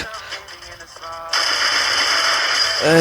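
Rapid automatic MP40 submachine-gun fire in a video game bursts out loudly and continues steadily to the end, after a quieter stretch of game sounds.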